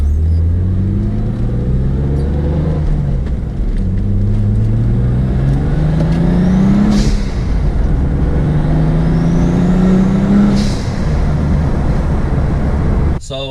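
A turbocharged BMW M3 running a 9 psi wastegate spring accelerates hard through several gears, its loud engine note climbing steadily in pitch, dropping at each shift and climbing again, with the turbo whistle on top, heard from inside the car.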